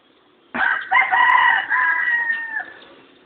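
A single rooster crows once, a loud drawn-out call starting abruptly and trailing off, close by with a quiet background.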